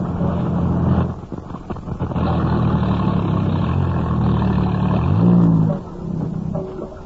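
A car engine runs steadily close by, a loud broadband rumble that dips briefly around the one-second mark and swells near five seconds, with no speech over it.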